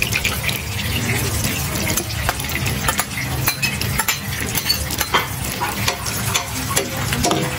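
Plenty of garlic sizzles in butter for butter garlic crab, a dense, steady frying hiss broken by frequent sharp metallic scrapes and knocks of a utensil stirring the pan up close.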